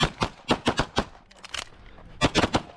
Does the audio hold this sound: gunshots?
yes